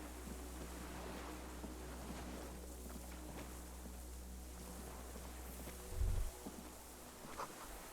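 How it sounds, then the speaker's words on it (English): Cargo ships sound distant signal horns across open water in the Disco Elysium video game, a low, steady drone under faint wind and water ambience, with a brief deeper swell near the end. "Distant sound of cargo ships,"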